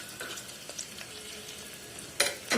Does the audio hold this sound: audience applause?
no